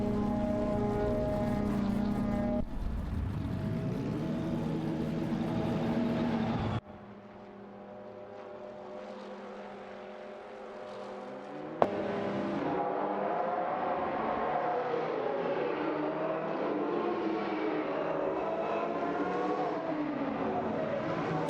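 Jaguar XGR12 and Mazda 787B race cars in a racing video game, loud engine drones passing in distinct segments with shifting pitch, one quieter stretch midway before the roar returns, no voices.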